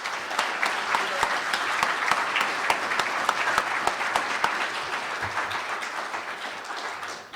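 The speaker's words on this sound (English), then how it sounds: "Let's give him a round of applause." Sustained applause from an audience at lunchtime presentations at the Green Grand Prix, a dense steady patter of many hands clapping throughout, fairly loud and continuous before tapering slightly at the end.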